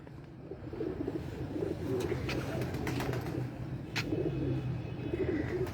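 Pigeons coo in a breeder's loft, soft repeated low calls running steadily throughout, with a few brief sharper bird notes over the murmur.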